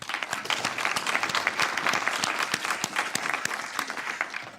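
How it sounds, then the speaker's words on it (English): An audience at a university awards ceremony applauds a Teacher Excellence Award recipient with sustained, dense clapping. The sound is full and steady throughout, with a brief murmur of voices underneath. "A round of applause, please."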